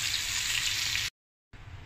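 Pork ribs pan-fry slowly in oil over low heat with a steady, close sizzle that cuts out briefly to silence and then resumes.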